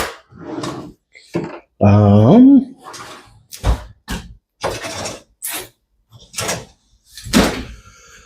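A kitchen drawer slides open and shut with a brief wooden rattle and clunk, set among bursts of nearby talk.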